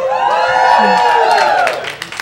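A stand-up comedy audience cheers and whoops, a loud, close crowd roar with rising and falling shouts that swells and then tapers off with a few claps at the end.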